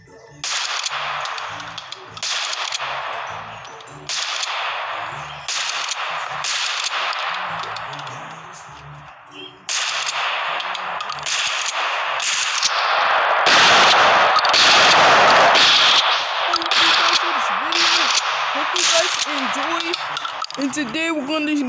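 Shotgun blasts fire in a video game, a series of repeated sharp bursts in quick succession, with a voice talking underneath.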